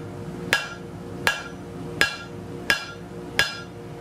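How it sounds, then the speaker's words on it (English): Five evenly spaced hammer blows on hot steel flat stock ring out close by, each a sharp clang with a brief ringing decay, steady rhythm on metal. "we are going to hammer at the back"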